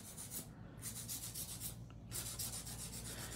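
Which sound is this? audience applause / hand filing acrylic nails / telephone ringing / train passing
hand filing acrylic nails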